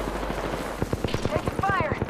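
Gunfire in the Apex Legends video game, with a rapid automatic burst of evenly spaced shots growing louder, close and sharp, while a voice calls out over the shooting.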